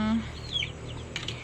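Pet chickens cluck softly after being fed, with a few short, faint clucks and chirps over low background noise and a brief voice at the start.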